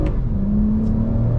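A 2021 Toyota Camry TRD in sport mode accelerates hard in first gear with manual paddle shifting, its engine droning steadily and rising in pitch close up, loud and continuous with no talk.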